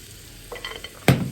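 Chopped onions tipped into a hot pot for Sindhi biryani curry, a short burst of scraping and clatter followed by a loud, sudden sizzle as they hit the oil, with no talking.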